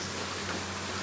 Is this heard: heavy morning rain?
yes